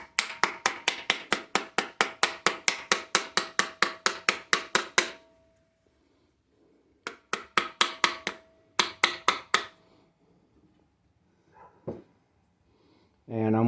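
Hammer tapping a vacuum advance housing closed: a fast, steady run of about twenty close, sharp metallic taps, then short bursts of taps after a pause, with a brief voice near the end.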